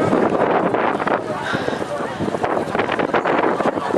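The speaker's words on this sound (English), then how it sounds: "The wind's pretty bad today." Strong wind buffets an outdoor microphone near a concert venue, making a loud continuous rumble and roar throughout while someone talks over it.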